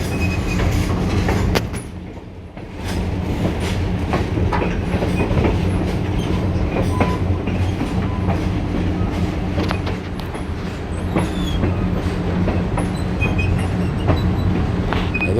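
A passenger train rolls along rails on a summer evening, a loud steady rumble of wheels with clickety-clack, creaks and occasional squeals from the car, continuous and close, with no talk.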